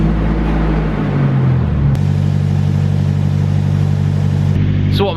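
A car engine ticks over steadily inside a garage, a continuous low idle close by with a brief change in pitch early on, and no talk.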